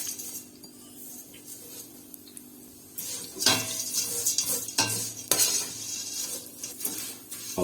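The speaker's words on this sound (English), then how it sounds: "I'll keep stirring until the sharia gets golden brown" Sharia noodles are stirred in onion-infused oil in a pot for Egyptian kushary, a soft sizzle running beneath repeated scraping strokes and metallic clinks that grow busier partway through, close and without speech.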